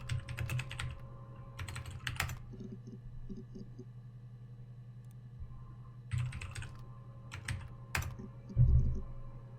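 Bursts of computer keyboard typing during a playthrough of the game Her Story, with clusters of clicky keystrokes around the start, middle and end, over a steady low background hum.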